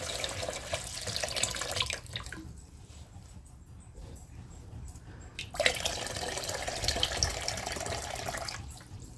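Purified water poured from a container while topping off a monstera cutting rooting in water indoors, a steady splashing pour that stops for a few seconds midway and then resumes, close and fairly quiet.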